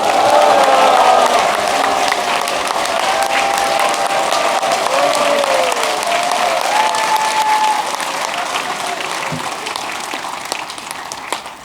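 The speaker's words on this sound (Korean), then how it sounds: "우리 신자분 여러분 큰 함성과 함께 박수 부탁합니다." A church congregation at a Marian evening service applauds and cheers, steady dense clapping with shouts of joy lasting several seconds before easing off gradually.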